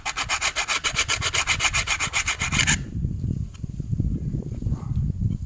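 A file rasps rhythmically against a brush cutter blade in quick, even back-and-forth strokes, loud and close, then gives way to softer rubbing and handling sounds.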